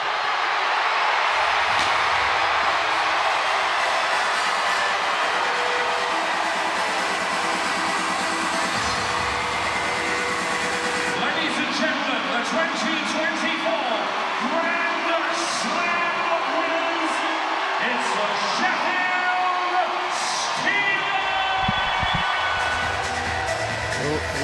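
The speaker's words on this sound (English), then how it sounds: "We'll let the crowd take you home, folks." Sheffield Steelers fans in an ice hockey arena at the 2024 playoff final against the Belfast Giants, a sustained, loud, broadband crowd roar that swells and holds with scattered higher shouts.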